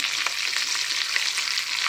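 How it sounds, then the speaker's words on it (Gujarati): Mustard seeds, cumin, cloves and pepper sizzle in hot ghee, a dense continuous close-up hiss with small pops and crackles, no talking. "ઘીની અંદર વઘાર કરવાનો છે। રાઈ, જીરું, લવિંગ મરી,"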